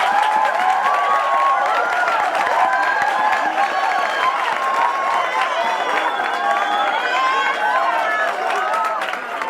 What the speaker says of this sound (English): Give us a Mahlem Tunjana a warm applause.